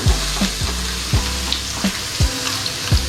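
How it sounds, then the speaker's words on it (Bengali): Hot oil sizzling loudly in a pan with a steady frying hiss, punctuated by regular rhythmic thumps and scrapes about every half second, close and without talking. "এদিকে তো তেল গরম হয়ে গেছে"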